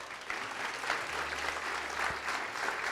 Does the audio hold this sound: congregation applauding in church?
yes